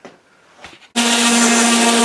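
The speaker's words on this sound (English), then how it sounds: "So we're gonna try the electric sander again" An electric sander grinds against a wooden 12 gauge shotgun stock, starting abruptly after some faint handling noises and then holding a loud, steady, high-pitched whine.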